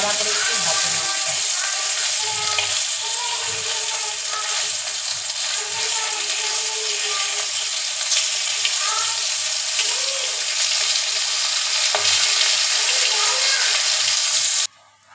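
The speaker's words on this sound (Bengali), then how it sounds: "কড়া করে একটু ভাজা মাছটা।" Rohu fish sizzles steadily as it fries crisp with salt in a pan, a loud, continuous crackling hiss that carries on unbroken for most of the stretch before cutting off at the end.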